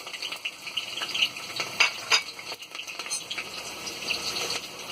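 Chopped onion and green chillies sizzle and crackle in hot oil in a pan, a bright continuous frying hiss with irregular pops and spatters, close and fairly quiet.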